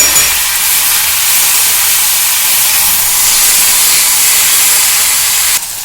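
Semolina and flattened rice sizzling steadily as they are stirred in a hot pan, a loud, continuous hiss running unbroken throughout, with no talk over it.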